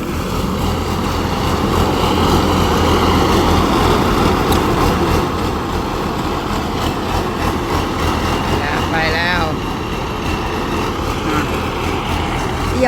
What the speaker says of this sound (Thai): แวะมาดูรถเกี่ยวรถเกี่ยวค่ะทุกคน